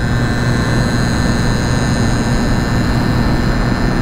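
A Kawasaki GTO 125 two-stroke motorcycle engine roars steadily and loudly at close range, a dense, unbroken buzz with no pauses or talking.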